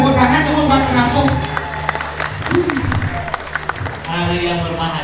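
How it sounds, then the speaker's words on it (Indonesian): Audience applause and cheering from a crowd at a Balinese Arja comedy performance at a temple, sustained clapping with scattered shouts and a voice speaking over it throughout. "Luar biasa, tepuk tangan teman buat penampung."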